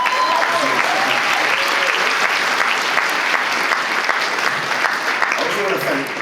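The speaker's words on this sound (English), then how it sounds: "So can you give these guys a massive round of applause?" An audience breaks into a massive round of applause at a chairman's speech, dense and loud, with scattered whistles and calls mixed into the sustained clapping.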